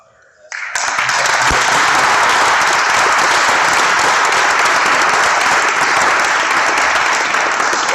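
An audience bursts into loud, sustained applause welcoming speaker Jennifer Butler to the stage, a dense wash of clapping that begins abruptly after a brief quiet moment and continues steadily.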